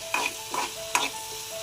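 Tomatoes sauté with onion in a pan, making a low sizzle with three or four quick scraping stir strokes close by.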